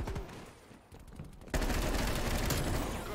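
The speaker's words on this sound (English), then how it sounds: "He's shooting at people." Call of Duty gunfire: after a quieter opening of scattered shots, a dense, loud burst of rapid automatic fire and overlapping shots erupts and keeps going without a break.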